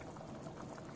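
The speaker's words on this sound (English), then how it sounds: "Now I'm going to add some coconut milk" Coconut milk poured into a pan of liquid heating toward a boil, a short, soft, continuous pouring wash at low level.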